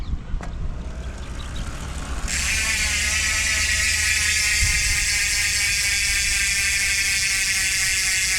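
A bicycle rear hub (Maxon Stroke 1.0 MPD) on a rigid mountain bike freewheels with a fast, loud ticking whir that starts abruptly after a few seconds of quieter mechanical rattling.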